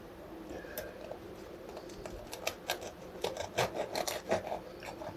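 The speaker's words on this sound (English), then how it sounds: "I'll cut into another one." A knife cuts into a gluten-free Yorkshire pudding, a faint crisp crunching and scraping that sharpens into a quick run of small crackles toward the end, heard close and quiet with no one talking.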